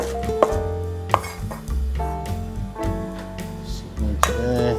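A knife thinly shredding iceberg lettuce on a cutting board, with sharp chopping taps at irregular intervals under ringing background music.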